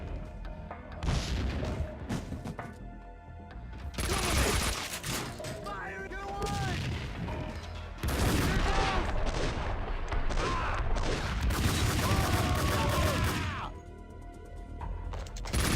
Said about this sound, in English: there's a whole bunch of guys inside this room, so I'm just gonna kind of open and then throw a grenade.